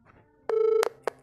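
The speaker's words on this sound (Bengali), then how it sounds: "আবার ওকে ফোন করো, আরেকবার ফোন করবো" A phone dials out: a few short keypad tones, one held beep and a final tone, close and clear, with faint voices at the start.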